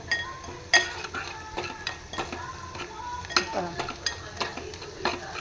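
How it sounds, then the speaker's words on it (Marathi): Onion and green chillies sauté over high heat in a pan, a gentle sizzle under frequent spatula scrapes and clinks as the mix is stirred, close by with no voices. "छान असा कांदा मस्तपैकी परतवून घ्यायचा आहे"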